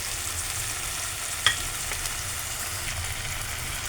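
Chopped tomato and green chillies fry in a pan with a steady, close sizzle and crackle, one sharper spit partway through, with no voices.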